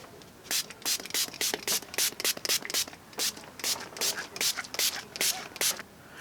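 Short bursts of makeup setting spray misting from a pump bottle repeat in quick, uneven pumps, close to the microphone, with a faint rubbing sound between sprays.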